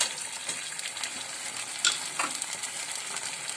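Vegetable rice sizzles in a pan as vinegar goes in and gets stirred, a soft continuous frying hiss with faint scraping and a brief clink, fairly quiet and without speech.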